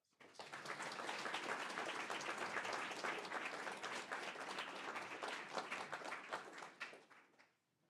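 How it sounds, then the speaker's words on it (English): An audience at a school board of education meeting applauds a team member, with dense, sustained clapping from a roomful of people that fades out at the end. "let's give her a round of applause"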